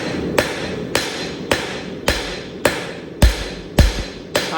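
A hammer strikes hot steel on an anvil while forging the fishtail of a 1-inch flat/square tong kit, eight sharp, evenly spaced ringing blows about half a second apart, close and clear with no talking.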